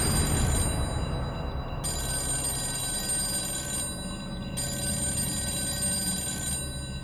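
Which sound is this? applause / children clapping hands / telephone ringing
telephone ringing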